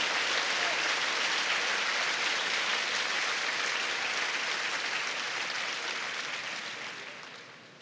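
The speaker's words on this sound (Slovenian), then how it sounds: "Predlagam en velik aplavz" A crowd at the opening of a sports centre gives sustained, dense applause, loud and even throughout before tapering off slightly near the end.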